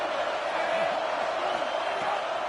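A large football stadium crowd roars steadily for the defense on a big third down in an LSU game, a dense continuous cheer with scattered whoops and chanting voices throughout.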